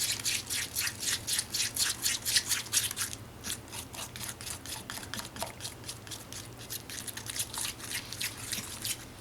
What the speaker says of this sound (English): you want to keep stirring it until it reaches a cake batter consistency